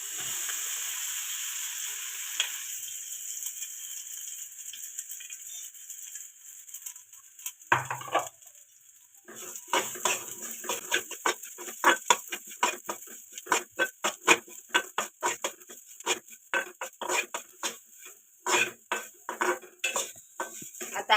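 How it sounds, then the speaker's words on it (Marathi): Rice grains tossed into hot ghee to roast for kheer, a faint sizzle that gives way to a long run of rhythmic spoon scrapes and clinks against the pan, close and steady. "आता आपण हे तांदूळ टाकूया."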